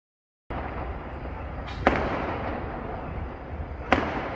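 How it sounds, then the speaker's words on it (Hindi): Fireworks and firecrackers set off for a year-2024 celebration, giving a dense continuous crackle with two sharp louder bangs standing out partway through and near the end, starting abruptly after a brief silence. "तो कुछ पटाखे भी छोड़ लेते हैं।"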